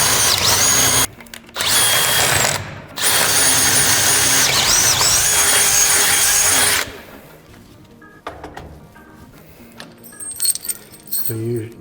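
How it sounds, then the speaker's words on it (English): An electric drill with a 1/2 inch bit bores bearing holes in a wood post, loud sustained whining in long bursts with brief pauses. Clattering and jangling of parts follows at a lower level. "Use your drill and your 1/2 inch. You're going to drill holes to hold the bearings."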